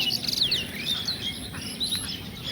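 Small birds chirp in a village near a riverside boat landing, with a series of quick, high tweets over a faint, steady outdoor background and no talking.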